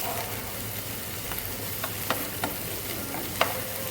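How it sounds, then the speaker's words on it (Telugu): Chicken masala with ginger-garlic paste sautés in a pan, a dense even sizzle with a few soft scrapes and taps from stirring, close and continuous, no talk. "ఒకసారి సాట్ చేస్తున్నాను. బాగా ఒకసారి కలిపేసేయండి."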